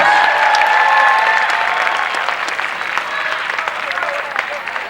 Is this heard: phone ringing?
no